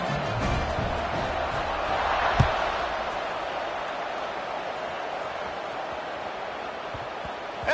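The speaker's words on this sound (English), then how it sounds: "this crowd is buzzing after that last score" In a college football video game, a stadium crowd buzzes after a score: a broad, steady roar of many voices at moderate level, with one brief thump and sharper accents near the end.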